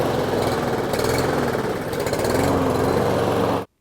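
A Toro Super Recycler lawn mower engine runs rough and close, a loud buzzing, slightly uneven drone that cuts off abruptly at the end.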